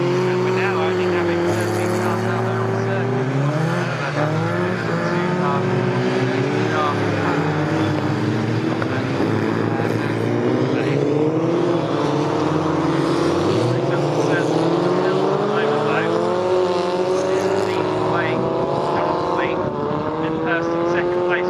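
Formula Ford 1600 race cars at Snetterton circuit during a National championship race, engines loud and close with rising and falling revs and gear changes, one car struggling to find gears, under continuous race commentary.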